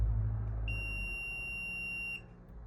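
A continuity tester held on a spliced coil pack wire gives one steady high-pitched beep lasting about a second and a half, close and clear over faint background noise, with no talking.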